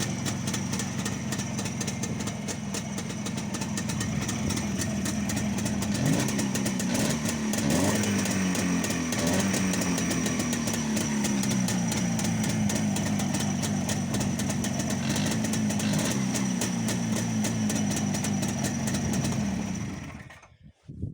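A restored Jawa 360 two-stroke motorcycle engine runs steadily at idle for about twenty seconds, a buzzing, close mechanical drone with slight fluctuations before it cuts off at the end.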